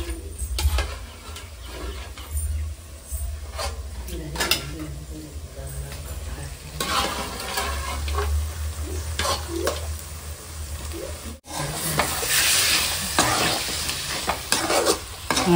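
Mutton sizzling as it fries in masala, stirred steadily with a spatula scraping the pan, a continuous close sizzle with periodic stirring clatter and a louder burst near the end, under faint background voices.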